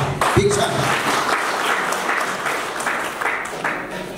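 A crowd at a political rally in Nepal claps in sustained, dense applause, fairly near and loud for the whole stretch, with a voice briefly audible at the start.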